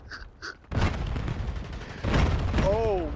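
Enemy sniper fire in a video game: two faint pops, then sharp gunshots with booming tails and a rumbling volley, loud and close, while a voice speaks over the fighting.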